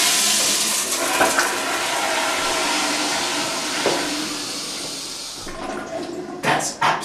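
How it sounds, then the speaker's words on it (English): A toilet flushes loudly and close by, a steady rushing gush of water that tapers into gurgling near the end, with no talk over it. "Now flush."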